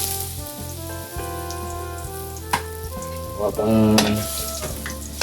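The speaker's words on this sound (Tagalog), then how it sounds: "tayo po ay nagpiprito ng ating pangberdoka na saging" Banana slices fry in hot oil in a home kitchen, giving a steady close sizzle with crackling bursts and a louder spatter near the end, while music plays underneath.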